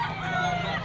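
Yellow-legged hatch bull stag rooster at a pet market, one short clucking call, brief and close over a low background hum.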